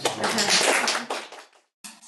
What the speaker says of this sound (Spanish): Un aplauso para el doctor, por favor